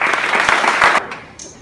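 An auditorium audience applauds Leon Charney at a Florida Atlantic University honorary doctorate ceremony, a short loud burst of clapping that cuts off abruptly.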